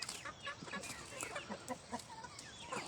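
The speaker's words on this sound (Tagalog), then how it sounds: "ipapakita ko sa inyo kung gaano na karami ang ating manukan dito sa farm" Chickens on a farm clucking and chattering, a soft, busy mix of overlapping bird calls at moderate distance with no clear talking.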